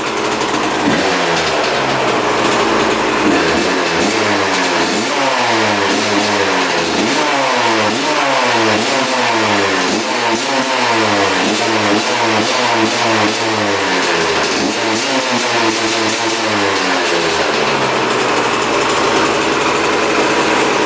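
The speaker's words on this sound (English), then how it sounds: "Definitely no air leaks or anything. Idling nicely. Drops right back down to idle." A cheap used dirt bike engine revs up repeatedly in loud, rising and falling pulls, then settles back to a steady idle, heard close and alone throughout.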